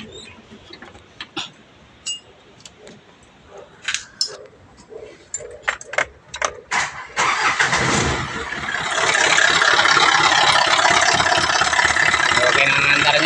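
An Isuzu 4HF1 diesel engine fitted with a new fuel pump is cranked over with a series of short clicks and bursts, then catches and settles into a loud, steady idle that continues to the end.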